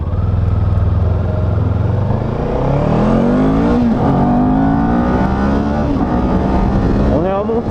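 A Kawasaki Ninja 400 motorcycle engine pulls uphill, its loud buzzing note climbing steadily in pitch as it revs toward 9000 rpm, heard close from the rider's position.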